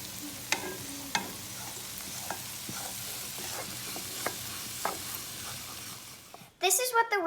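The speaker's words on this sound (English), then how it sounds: "I'm going to sift this in, and I'm going to mix this for about 10 minutes until it turns golden brown." A butter and flour roux cooks in a pan with a steady soft sizzle and scattered scrapes of stirring, close by, then a brief louder burst near the end.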